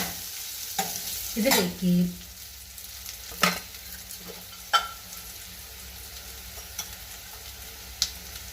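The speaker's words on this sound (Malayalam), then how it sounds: "ഈ സവാള നന്നായിട്ട് പൊരിഞ്ഞൊന്നും വരണ്ട, ഒരു മീഡിയം വേവ് മതി." Onions frying at medium heat in a pan for kadala curry: a faint, steady sizzle with a few stirring scrapes and clicks, including a louder burst early on.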